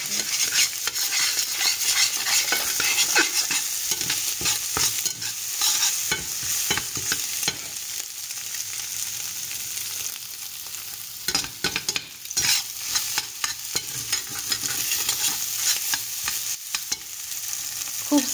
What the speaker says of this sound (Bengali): তো এটাকে এভাবে নেড়ে নেব, ডিম দুটোকে এভাবে নেড়ে নেব।